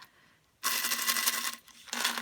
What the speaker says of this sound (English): This one here has a noise because it's got buttons inside